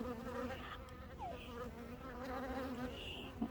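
A honeybee buzzing close by as it crawls over a phone outdoors, a soft steady drone with shifting pitch throughout, quiet and near, with no talk.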